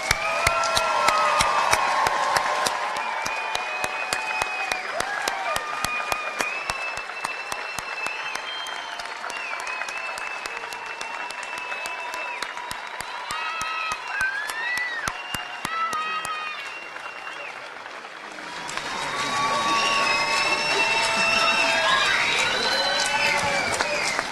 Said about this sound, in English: How about we give everybody one giant round of applause?